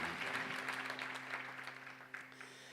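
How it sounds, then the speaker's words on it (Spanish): Church congregation claps in a sustained, moderately quiet round over a held keyboard chord, the clapping thinning slightly toward the end. "te damos un buen aplauso esta noche otra vez, Señor Jesús"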